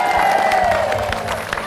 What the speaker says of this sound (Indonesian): Tapi sebelumnya kasih tepuk tangan dulu untuk tim C.